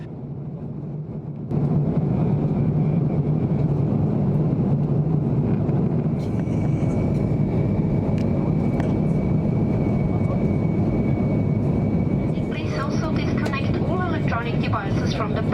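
Edelweiss Airbus A350 cabin on final approach and landing into Las Vegas, runway 19 left, along the Strip: after a quiet first second, a loud, steady engine and airflow roar fills the cabin, with muffled voices underneath.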